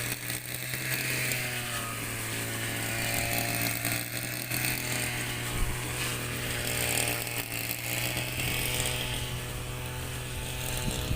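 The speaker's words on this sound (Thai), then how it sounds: "ใช้เครื่องตัดหญ้าตัดแบบนี้จ้ะ" A brush cutter's blade motor drones steadily and loudly throughout, its whine rising and dipping slightly as it cuts through rice stalks in a paddy field.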